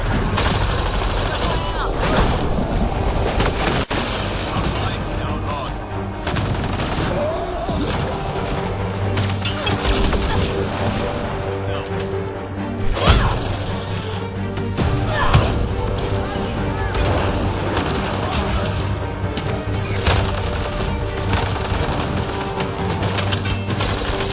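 Sustained gunfire from a firefight in the video game Mass Effect: Andromeda, with dense repeated shots and bursts, several louder impacts near the middle, and a player talking over it throughout.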